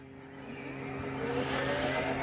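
Flywing MH60T Jayhawk RC helicopter electric motor spooling up, a steady rising whine with a tonal hum that grows gradually louder over a couple of seconds, close and continuous with no talking.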